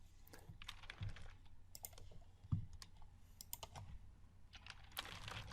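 Typing on a computer keyboard, a quiet, irregular run of close clicks and key taps over several seconds, with no voices.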